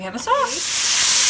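Steak searing in a hot pan, a bright steady sizzle that swells and holds after a brief spoken phrase at the start.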